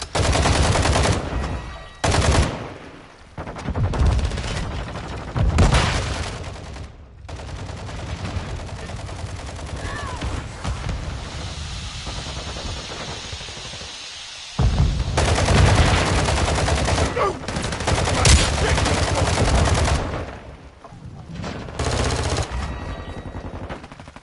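Heavy gunfire in the Modern Warfare 2 video game: loud, sustained automatic bursts and rattling fusillades that fill the clip, with brief gaps and shifts in intensity, and no talking over them.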